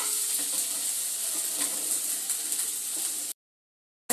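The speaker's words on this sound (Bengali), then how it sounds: "নাড়াচাড়া দিয়ে ভেজে নেব।" Spices frying in a very small amount of oil while being stirred for a butter egg dish, a steady close sizzle with scraping stirs, cutting off abruptly near the end.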